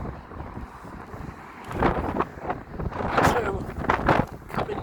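Strong wind gusting up St Augustine Street during the Anglia Square demolition, buffeting the microphone with loud, uneven roaring surges that build and swell across the span.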